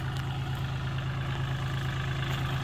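A tractor's diesel engine idles steadily at close range on a rubber plantation, a deep continuous rumble with a low throbbing hum and no voices over it.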